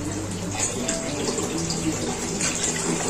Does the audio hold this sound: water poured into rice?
yes